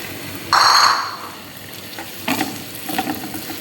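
Washed chicken dropped into a pan of browned onions, a sudden loud sizzle that swells briefly and then fades into softer crackling and stirring scrapes.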